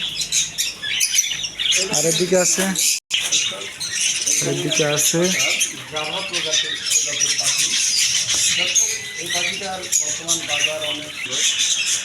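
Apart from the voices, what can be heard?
budgerigars chirping and squawking in a bird shop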